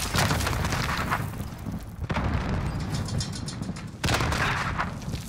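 Explosions in Call of Duty Modern Warfare (Warzone) gameplay: heavy booming blasts erupt roughly every two seconds, three in all, each followed by rumbling debris, with no talking.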